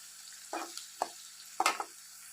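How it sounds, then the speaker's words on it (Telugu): Onion pieces being stirred in hot oil for a ridge gourd and drumstick curry, with three soft, separate bursts of scraping and sizzle over quiet background. "ఉల్లిపాయ ముక్కలు వేగనిద్దామండి."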